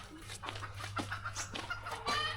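Chickens cluck softly at a distance over a steady low hum, with scattered short calls from the flock and no voices.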